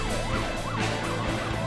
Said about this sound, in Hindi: व्यस्त ट्रैफिक के बीच सायरन बजाते हुए ये एम्बुलेंस दन दनाते हुए आपके घर पहुंच जाएंगे